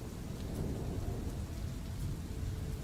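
A storm sound effect on a mountain: heavy rain or hail hissing continuously with low rumbling thunder, dense and loud throughout with no voices.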